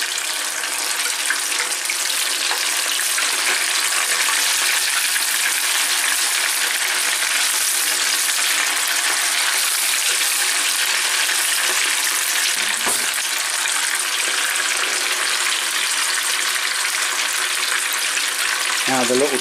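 Sesame chilli chicken pieces fry in hot oil with a loud, steady, dense sizzle that holds evenly throughout, punctuated by a couple of brief stirring clunks.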